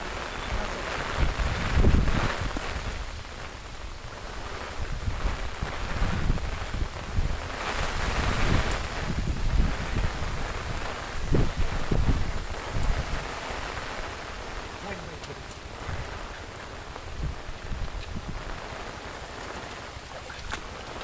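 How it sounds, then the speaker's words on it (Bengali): Strong wind gusting through heavy rain in a village during the rainy season, a loud, steady roar of air buffeting the microphone, with surges and lulls and no talking. "অনেক পরিমাণ বাতাস আছে অনেক।"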